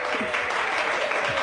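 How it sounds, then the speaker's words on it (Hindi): Audience clapping for a performer, a brief burst of steady applause from a crowd that is loud and continuous across the short stretch. "इनके लिए जोरदार तालियां प्लीज।"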